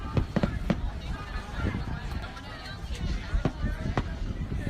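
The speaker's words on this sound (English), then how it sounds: "Those are some good fireworks." Fireworks go off in a quick string of sharp pops and bangs over a busy background, with voices murmuring underneath.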